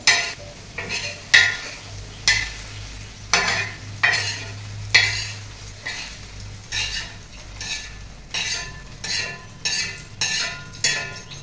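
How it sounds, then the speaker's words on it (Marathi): Okra fries in oil with green chili and garlic in a pan, a soft sizzle broken by a dozen regular scraping strokes of a spoon stirring against the metal, close and clear. "त्या भेंडीचा काही पिळबिटपणा जायचं पण आपण तेलामध्ये जरा भाजून घ्यायची"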